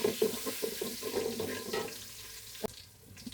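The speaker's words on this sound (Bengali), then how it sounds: "পানি দিয়ে দিলাম" Water poured into a hot pot of fried beef for tehari pulao, gushing and splashing loudly for about two seconds, then a sharp knock as it trails off into a faint sizzle.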